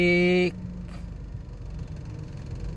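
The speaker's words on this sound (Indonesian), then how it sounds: "Oke, langsung terkunci." Car door locks engaging on a passenger car: a loud, steady tonal sound ends abruptly, followed about half a second later by a single soft mechanical clunk against a low engine rumble.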